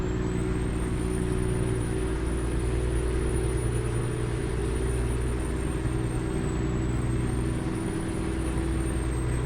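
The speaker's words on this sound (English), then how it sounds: "Curious to see what the C16 sounds like." A Caterpillar C16 engine, an older semi-electronic diesel, runs steadily in a Freightliner Argosy truck in American Truck Simulator: a constant deep rumble with a droning hum and a high whine that sags slightly partway through.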